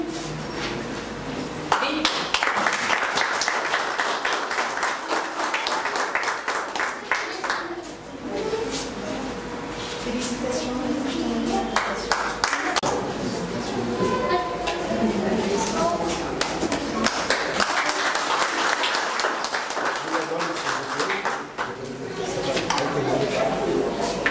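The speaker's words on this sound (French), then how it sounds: "on l'applaudit" Steady applause from a crowd at a diploma ceremony, dense clapping that swells and continues for the whole stretch, with a few voices mixed in.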